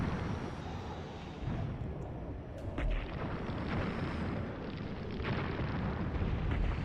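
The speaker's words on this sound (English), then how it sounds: "That's where they're dropping bombs." Bombs drop and explode in a modern war video game battle where South Africa invades Angola: a continuous low rumbling roar with heavy booming bursts, dense and sustained, with no talking.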